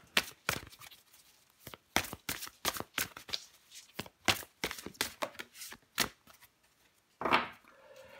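Tarot cards being drawn and shuffled, a quick run of crisp riffling snaps and flicks close to the mic, irregular bursts with short pauses and one louder slap near the end.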